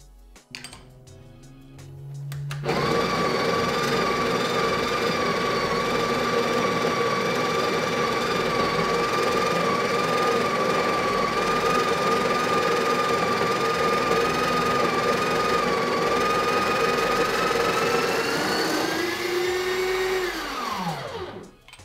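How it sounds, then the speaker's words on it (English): A Breville Barista Express grinds a full dose of espresso into its portafilter: a loud, steady high-pitched motor whir holds for about sixteen seconds, then winds down and stops. "grind out a full dose of espresso into our portafilter."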